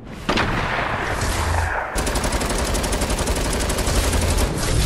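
Fortnite gunfire rattles in rapid, sustained bursts, loud and close, with a brief gap before a long stretch of steady automatic shooting.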